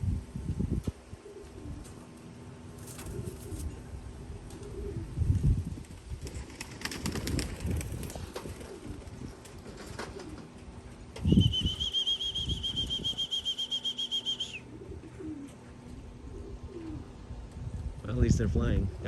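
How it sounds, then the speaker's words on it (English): Racing homing pigeons coo and take flight during a training day, soft cooing and bursts of flapping wings outdoors, with a bird whistle and someone talking intermittently. "So nice to see a bunch of birds up in the air again."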